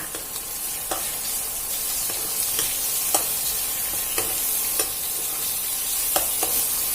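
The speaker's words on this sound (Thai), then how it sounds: "แล้วก็ตามด้วยพริกไทยลงไปผัดน้ำมันให้หอมนะคะ" Pork belly and Sichuan pepper stir-fry in oil, a steady dense sizzle with occasional sharp spatula scrapes and clicks against the pan at irregular intervals, close and continuous with no talking.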